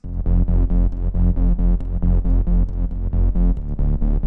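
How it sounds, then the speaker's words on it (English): A heavy Reese bass synth built from one detuned saw wave throbs loudly in pulsing rhythmic stabs, thick and growling, repeating evenly with no one speaking. "for the bass it was just this Reese bass here"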